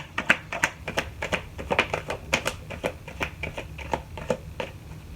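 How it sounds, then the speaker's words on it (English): A deck of tarot cards is shuffled by hand, producing a close, steady series of crisp slaps and riffling taps at an even rhythm with no talking. "I'm going to shuffle this one more time for you"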